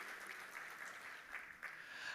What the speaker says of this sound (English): A round of applause for His Majesty,